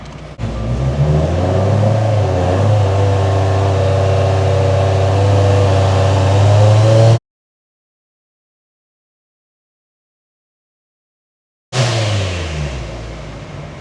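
Subaru STI engine on a dyno revving hard to 5,000 RPM, a loud sustained mid-pitched roar lasting about seven seconds, then silence, then the engine returning loud and winding down.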